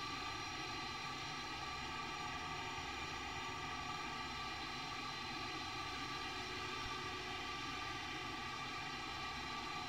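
A Boeing 737-800 taxis toward a short runway in Microsoft Flight Simulator X, its jet engines giving off a steady, faint, even whine with no talk.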